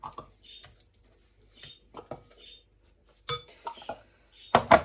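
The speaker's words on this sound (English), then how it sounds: "So I'm going to just scrape my seasoning out in here." Jerk seasoning scraped from a food processor bowl, heard as scattered clinks and knocks of a utensil against the container with short scraping strokes and pauses between them, close and fairly quiet.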